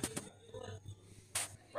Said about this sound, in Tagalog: dog shelter. Maraming aso dito.